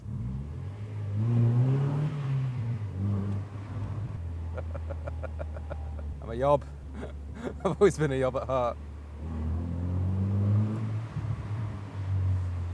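A Mazda MX-5 NB with a modified exhaust revs sharply a few times in quick succession, burbling as the revs fall, with someone talking before and after the blips.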